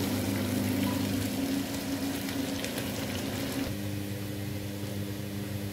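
Onions frying in hot oil for a mutton liver masala, a steady close sizzle and hiss that continues evenly with a faint background hum.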